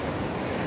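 Sea waves at Pasir Putih beach, a brief burst of dense, roaring surf noise, loud and continuous with a windy edge.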